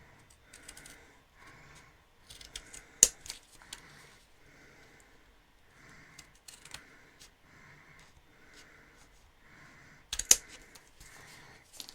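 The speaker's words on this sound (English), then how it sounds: "I'm just going to use my scissors to cut that." Repeated crisp snips of scissors cutting paper, close and fairly quiet, coming in short bursts with a couple of sharper clacks.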